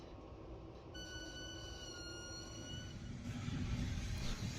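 An SJ EuroNight sleeper train rolls out of Stockholm Central toward Hamburg with a low, steady rumble. Thin high whining tones rise over it for a couple of seconds, then the noise thickens as it picks up.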